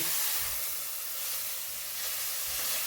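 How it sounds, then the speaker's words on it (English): A steak basted in garlic and thyme butter sizzles in a hot pan, giving off a steady, close, dense hiss with faint low bubbling and no voices. "Now I'm sort of going to baste it in that butter."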